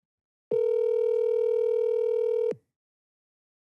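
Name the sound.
telephone call ringing, unanswered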